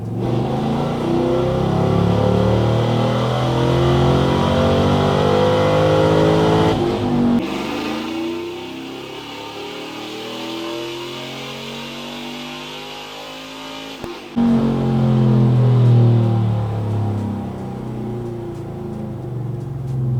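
A Texas Speed Stage 4 camshaft Silverado with a 5.3 V8 revs hard on a dyno, the engine note climbing through long pulls with abrupt breaks between them, loud and close with no voices.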